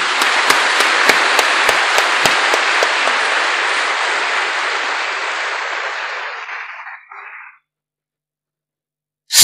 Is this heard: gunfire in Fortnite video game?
no